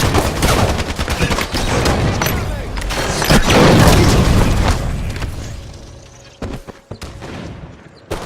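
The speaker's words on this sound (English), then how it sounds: "Sniper boom. Headshot." Booming gunfire and explosions from a video game roll loudly and continuously, including a heavy rifle crack, then thin out into a few scattered sharp shots near the end.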